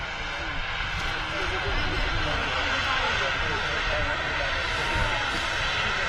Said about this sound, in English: 737-800. Surprise, surprise. Taxiing out.